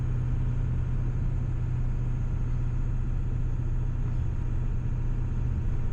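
A 450 hp OBS truck cruises at 40 mph in third gear. A steady, low engine rumble and road drone continue without a break, heard from inside the cab with no talking.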